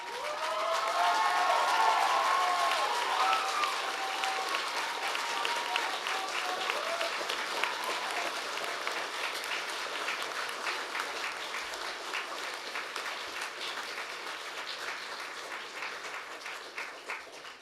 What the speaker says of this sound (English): show them what a rousing round of applause sounds like?